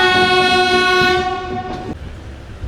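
The Sabari Superfast Express sounds a long, loud horn as it pulls away from a station, the blast cutting off abruptly and leaving rolling train rumble and wheel clatter.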